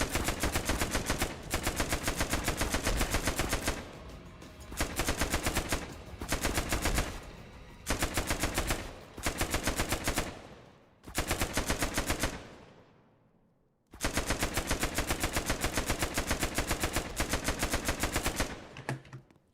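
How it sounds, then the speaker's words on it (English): Rapid gunfire in the Roblox game Dead Rails comes in long loud bursts of automatic shots, broken by short pauses and one longer gap, with no speech over it. "Gunshots are loud and wake nearby zombies."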